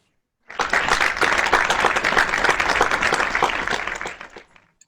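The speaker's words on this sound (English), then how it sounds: "Let's give him a huge round of applause." An audience at a DTAC2020 contest event breaks into dense, loud applause that starts abruptly, holds steady for about three and a half seconds, then fades out.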